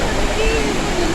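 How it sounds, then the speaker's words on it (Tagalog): A waterfall roars in a loud, continuous rush heard up close, with a voice speaking over the steady noise of the water. "lalapit tayo sa falls"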